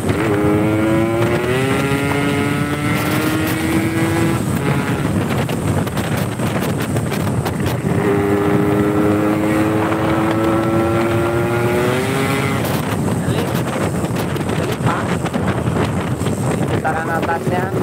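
A Yamaha RX King motorcycle with a rough, coarse exhaust revs loudly and close up. The engine climbs in pitch twice in long pulls and drops back each time, over steady wind buffeting and faint voices.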